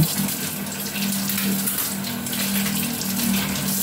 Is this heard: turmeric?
no